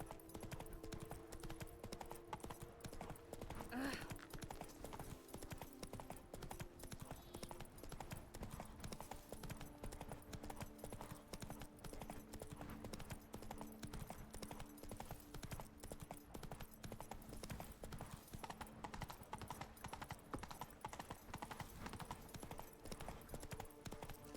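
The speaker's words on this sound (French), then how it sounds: "Il devient fou, le cheval." Horse hooves clip-clop in a fast, steady rhythm in The Witcher 3, continuing for over twenty seconds under game music and ambience, with a brief whinny early on and no talking.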